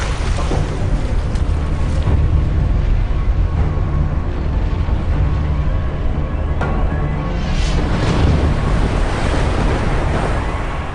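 Loud ocean surf and gusting wind roar steadily and continuously, a dense, unbroken wash of crashing water with wind buffeting the microphone and no voices.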